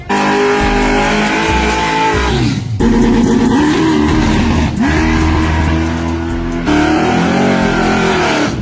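A Chevrolet Caprice with an LSA engine accelerates hard and loud, revving up in several rising surges with brief drops between them, close and dominant.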